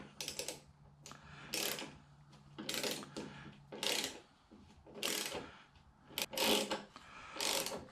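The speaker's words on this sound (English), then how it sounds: "I'm going to take my corresponding tap, and if you have a tap socket, that works the best" A thread tap driven by a tap socket and ratchet cuts fresh threads in a damaged hole, heard as repeated close bursts of ratcheting clicks, roughly one per second, with short quiet gaps.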